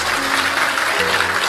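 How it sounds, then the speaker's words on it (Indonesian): A church congregation at a Christian sermon applauds steadily, a dense wash of many hands clapping at even volume for a brief moment, with no talk over it. "Tepuk tangan dulu buat Tuhan Yesus."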